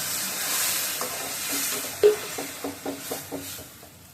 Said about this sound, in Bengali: ডিমগুলো ছেড়ে দিয়ে মশলার সাথে একটু নেড়ে ছেড়ে মিশিয়ে দেবো